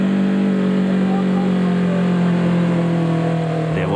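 Rally vehicles in the 1991 Toyota 1000 desert race, including a Toyota Hilux, arrive at a sand dune with a loud, continuous engine drone that holds steady throughout.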